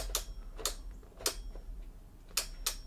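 Sharp, fairly faint clicks from adjustable Bowflex dumbbells, several irregularly spaced ticks against a low background hum, with no talking.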